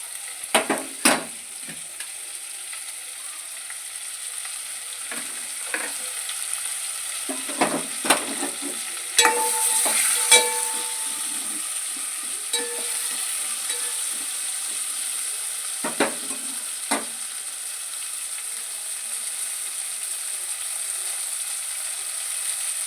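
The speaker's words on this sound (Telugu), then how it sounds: "ఆయిల్లో బాగా ఫ్రై అవ్వాలండి." Food frying in oil over a high flame, a continuous hissing sizzle with scattered sharp clinks and scrapes of a spoon against the pan, close and moderately loud.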